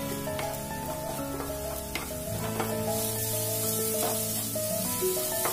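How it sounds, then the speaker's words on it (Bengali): Eggs fry with spices in a pan over a low gas flame, giving a steady close hiss and crackle with occasional stirring knocks, while tonal background music plays underneath. "ডিমটা আমি 2 মিনিটের মতন ভেজে নিয়েছি গ্যাসের ফ্লেম স্লোতে রেখে।"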